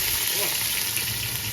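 Onions go into hot oil in a pot and fry with a loud, continuous sizzle and crackle, close up and with no talk over it.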